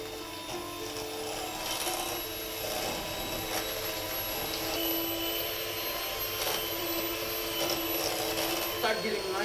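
An electric mixer creaming sugar and butter at slow speed, a steady mechanical whirring hum that runs the whole time, with a voice talking over it.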